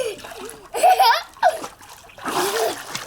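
Water splashes in an outdoor swimming pool as a person goes under, with short bursts of splashing, laughter and children's voices close by.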